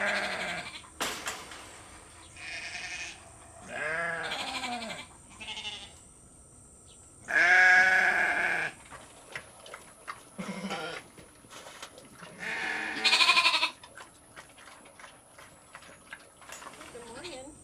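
Several sheep bleat loudly at irregular intervals, some near and some farther off, with rustling farmyard noise between calls.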